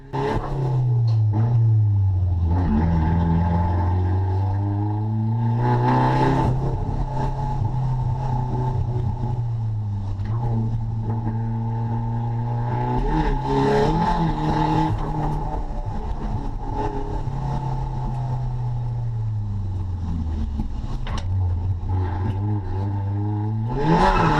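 A CA18DET-engined car, underpowered, misfiring and poorly set up, drifts on a track, its engine rising and falling through repeated revs and gear changes, loud and close throughout with no talk.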